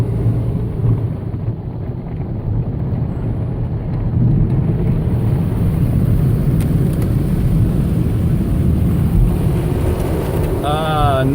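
Inside a car going through an automatic car wash: steady loud rushing and rumbling of water spray and brushes wiping over the body throughout, with faint voices underneath.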